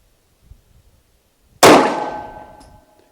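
Smith & Wesson M&P 9mm Shield pistol fired once at a seven-yard range, a single sharp, loud report with a ringing decay, preceded by faint handling sounds.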